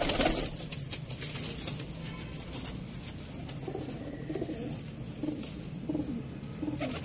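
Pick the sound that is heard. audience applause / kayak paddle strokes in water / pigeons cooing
pigeons cooing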